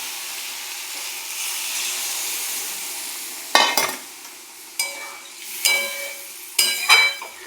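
Bottle gourd cooked with nuts and spices sizzles in a pan with a soft steady hiss, then three louder bursts of crackling and scraping as it is stirred, close up with no speech.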